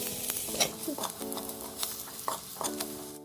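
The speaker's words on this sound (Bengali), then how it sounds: "এবার এগুলো ভালোভাবে নেড়ে নিতে হবে। তো আমি নেড়ে নিচ্ছি।" Turmeric, chilli and cumin powders stirred as they fry in a pan, with a soft sizzle under repeated scraping strokes of a spatula and faint background hum.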